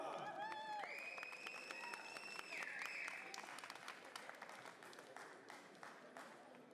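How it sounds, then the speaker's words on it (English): An audience at a collegiate powerlifting national championship applauds a silver medalist, with scattered claps over a fading background. Whistles and cheers ring out early on, and the crowd sounds moderately distant. "Give me a round of applause to the silver medalist, Kyle Garcia!"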